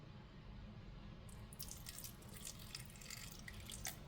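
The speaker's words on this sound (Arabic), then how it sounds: "هنحط خل." Vinegar poured onto fish in a home kitchen gives a soft, steady liquid trickle with light dripping, fairly quiet and close, with no talking.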